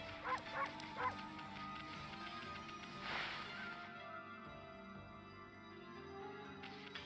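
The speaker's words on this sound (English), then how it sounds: "there's just a bark button." A few sharp dog-like barks from the wolf in the Okami video game, close and loud, clustered in the first second, followed by a steadier cry, over game music.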